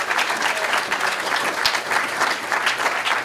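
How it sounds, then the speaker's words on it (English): A hackathon opening ceremony audience claps a steady, dense round of applause for sponsors, sustained and fairly loud throughout with no talking. "So, let's give them a round of applause."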